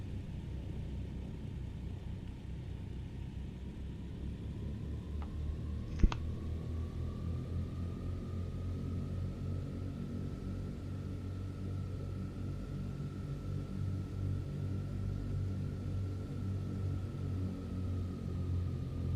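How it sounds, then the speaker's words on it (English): A Douglas DC-3 taxiing at Heathrow, its piston engines giving a steady low rumble with a faint whining tone above, continuous and fairly distant, with a brief click partway through. "Cool sounding airplane. I love the sounds this thing makes"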